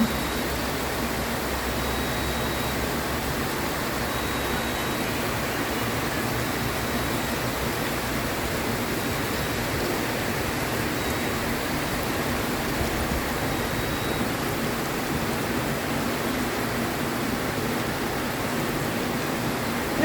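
Rain falls in Muscat, Oman, a dense, unbroken wash of hiss that holds at an even level for the whole stretch, with no voices over it.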